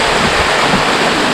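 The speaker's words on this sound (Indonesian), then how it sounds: "ini salah satu air terjun yang lumayan cukup tinggi ya" A tall waterfall in Maros, South Sulawesi, in the dry season with little water flowing, heard as a loud, steady broadband rush of falling water with no voices.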